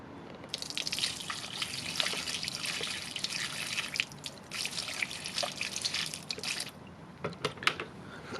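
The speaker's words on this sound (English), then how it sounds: "Okay, it's about a quart of water." About a quart of water is poured steadily over a reflex gun sight, splashing and trickling over it, then breaks into scattered drips and splatters near the end.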